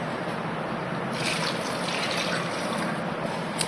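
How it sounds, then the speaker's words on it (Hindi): Water poured over potatoes in a pressure cooker for boiling, a steady soft trickle and splash, close and fairly quiet, with no talking. "1 चम्मच नमक का डालोगे और पानी उतना जितने में के आलू भीग जाए"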